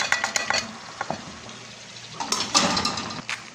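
Macaroni poured into a pot of beef casserole with white sauce and stirred with a utensil, close clinking and scraping strokes in irregular bursts with soft rustling between them.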